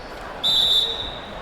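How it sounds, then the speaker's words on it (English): A referee's whistle in the NBA 2K17 basketball video game blows one sharp, sustained, high tone lasting about half a second, clear over faint game-crowd ambience. "And there's the whistle."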